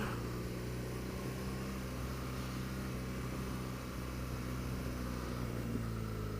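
Steady engine drone from a BMW R1200 GSA motorcycle ridden in first gear, a continuous close hum with wind rush and no pauses.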